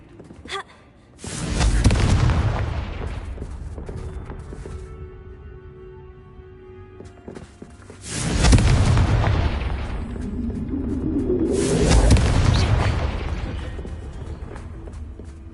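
Confringo blasting spell explosions in the game Hogwarts Legacy, three heavy booming blasts spaced several seconds apart, each with a deep rumbling tail, interspersed with quieter in-game ambience.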